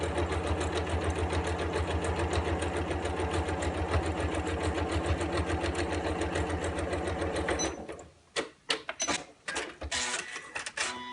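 Sewing machine stitching through layered patchwork fabric and batting for a coin purse, a steady close rapid run for about eight seconds, then stopping and giving short stuttering bursts of stitches and handling noises.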